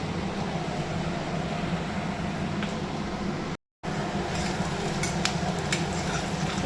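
Chopped onions fry with garlic paste in a pan, a steady close sizzle running throughout, with a brief dropout midway and a few light scrapes near the end.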